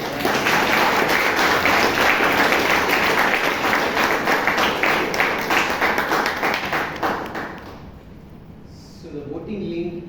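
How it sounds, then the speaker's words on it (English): A Toastmasters meeting audience in Bangalore claps in a dense, sustained round of applause that fades out near the end, leaving brief faint noises. "Can you have another round of applause for this?"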